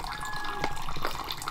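Water poured in a bathroom, splashing and trickling close by for a second or two, with a couple of brighter splashes in the middle and no talk.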